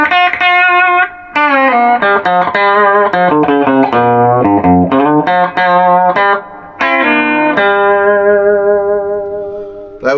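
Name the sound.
electric guitar through pedal with reverb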